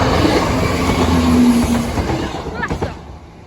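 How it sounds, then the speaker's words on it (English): A train rumbles toward a level crossing with steady low rolling noise and a faint squeal, fairly loud and near, fading slightly toward the end. "Train's approaching."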